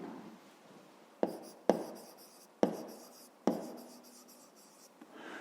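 A pen scratches on paper in a quiet room, working out a math exercise by hand in several short bursts of strokes separated by brief pauses, close and soft.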